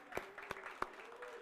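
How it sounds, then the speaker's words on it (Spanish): A church audience applauds its praise band during a Christmas Eve service: a few separate, fairly soft claps spaced in a loose rhythm over a quiet room murmur. "Let's give a round of applause to our praise group."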